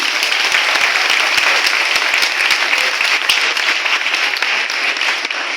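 At an Easter youth mass, a congregation in a church applauds a boy with loud, sustained clapping that stays dense and even throughout.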